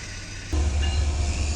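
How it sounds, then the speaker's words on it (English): A Union Pacific mixed freight train accelerating along a connecting track at a rail junction gives a loud, steady low rumble that swells suddenly partway through and holds, with faint hiss above. "we see a UP mixed freight train accelerating through the UP West Belt Harrisburg sub connecting track"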